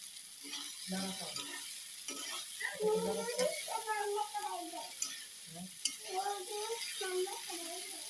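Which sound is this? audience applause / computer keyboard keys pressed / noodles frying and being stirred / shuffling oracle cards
noodles frying and being stirred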